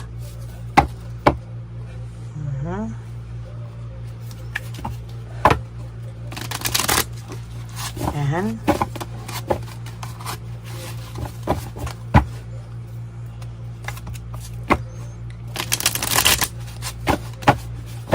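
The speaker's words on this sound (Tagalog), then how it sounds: "Basahin po muna natin ang ating baraha." Cards being shuffled in repeated bursts of quick riffling and snapping, close by, with a steady low hum underneath and a brief word spoken.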